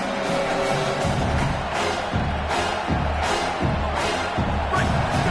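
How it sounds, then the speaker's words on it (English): A home crowd at a Stanford versus Washington football game roars steadily on third down, a dense, continuous wall of noise that swells in rhythmic pulses. "Here comes this home crowd as the defense tries to get off the field on third down."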